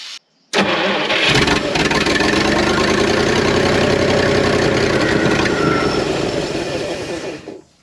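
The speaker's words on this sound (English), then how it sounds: "I'm gonna crank the engine over." A junk 1952 Kenworth Pacific bus engine cranks over after a short silence, then runs loud and rough with a steady heavy rumble before fading slightly at the end.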